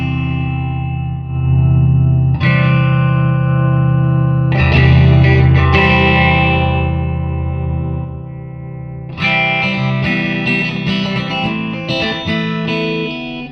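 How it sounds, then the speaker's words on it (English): Electric guitar played through the distortion setting of a Nux Mighty60 mk2 amplifier, with sustained distorted chords and bursts of choppy strummed notes, loud and close with no talking. "At the moment I've got distortion, so if I switch this on, probably will kick crap out of everyone."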